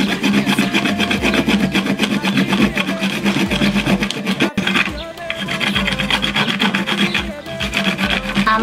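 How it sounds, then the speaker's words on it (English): Nut milk, a solid cooking ingredient, is rubbed against a grater in quick repeated rasping strokes, a loud, close, continuous scraping rhythm with one brief pause midway. "So now I am going to grate my nut milk."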